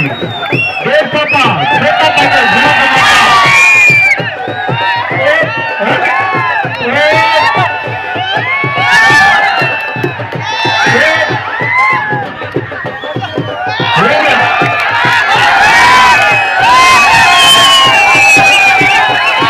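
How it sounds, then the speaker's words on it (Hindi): A large crowd at a kushti wrestling match cheers and shouts loudly and continuously, with whoops and voices rising above dense babble and hand claps, swelling again near the end. "जोरदार तालियां मेरे पहलवानों के लिए।"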